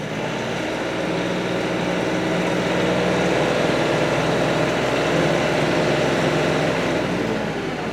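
A manual-transmission vehicle cruises in mid-range fourth gear, giving off a steady, smooth engine drone with a low hum. It stays even and continuous throughout, with no surges or jerks, and no voices.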